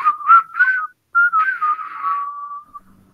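A single person whistles nearby in short, bright, tuneful phrases, two quick notes and a swell, then a brief pause before a longer gliding line that trails off, with no talking.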